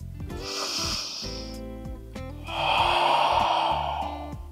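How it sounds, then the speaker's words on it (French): A deep breath taken during a yoga session, a slow inhale followed by a longer, louder exhale, close and breathy over soft background music. "Prends une profonde et dernière respiration ici."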